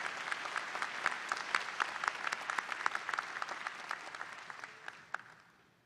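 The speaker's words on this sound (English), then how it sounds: "Let's give all of these folks a round of applause for their help and participation today." Applause from a university commencement audience at Eastern Illinois University, a dense, even roar of many hands clapping, heard from a distance and fairly faint, with individual sharp claps poking through before it thins out at the end.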